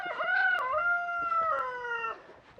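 A rooster crows once in a long, drawn-out call lasting about two seconds, clear and fairly close, strong at the start and trailing off at the end, with no voices over it.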